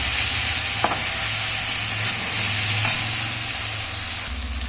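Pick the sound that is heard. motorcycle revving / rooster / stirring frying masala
stirring frying masala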